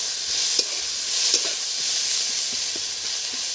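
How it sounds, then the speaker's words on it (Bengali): Chopped onion frying in hot oil with dried red chillies and whole cumin seeds, a steady close sizzle with faint stirring clicks, no voices. "তেল গরম হয়ে গেছে, কটা শুকনো লঙ্কা ফোড়নে দিয়ে দিলাম একটু গোটা জিরে,"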